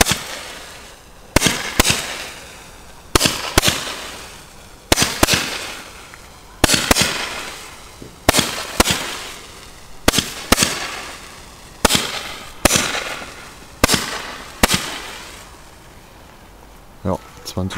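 Roman candle fireworks fire a series of sharp shots outdoors, roughly a dozen loud cracks spaced about one to two seconds apart, each followed by a brief crackling decay.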